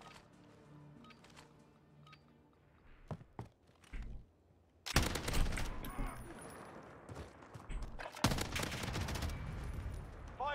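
Video game gunfire erupts midway as loud, dense bursts of shots and impacts, preceded by a few sparse thuds and quieter ambience.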